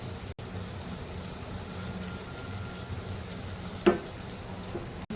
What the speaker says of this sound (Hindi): अब हम बनाएंगे एक बघार